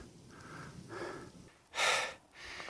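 A hiker breathes hard and pants after climbing a long, steep hill on a walk from Land's End to John o' Groats, with a few heavy breaths and one loud, sharp exhale close to the microphone.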